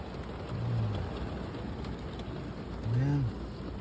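Rain falls on a car at night in a golf course parking area, a steady close patter on the roof and glass with two brief low tonal hums over it.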